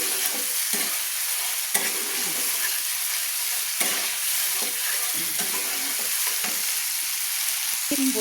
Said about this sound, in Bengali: পেস্ট করা টমেটোটা দিয়ে আমি আবার মশলার সঙ্গে কষিয়ে নিলাম